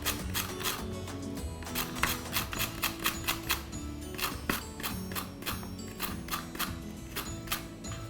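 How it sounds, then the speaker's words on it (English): A knife cuts a carrot into julienne strips on a board, giving rapid, regular, crisp chops close by, in quick runs with brief pauses. "I like cutting the carrot into little julienne strips,"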